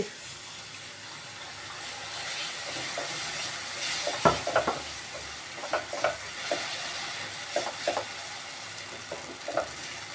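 Water poured in stages into butter gravy sizzling in a pan for fried chicken, with a steady frying hiss and scattered spoon clinks and scrapes as it is stirred.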